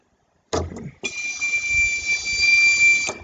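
After a short knock, a buzzer wired with an LED and a stepper motor to a push switch sounds a steady, piercing electronic tone of about two seconds, with a low motor hum and faint handling noise beneath.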